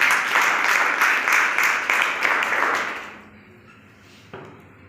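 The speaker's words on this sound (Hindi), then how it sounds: "आप सभी के स्वागत के लिए जोरदार तालियां" An audience at an awareness seminar in Uttar Pradesh claps loudly to welcome first-time attendees, a dense steady applause lasting about three seconds before fading to near quiet, with one faint tap near the end.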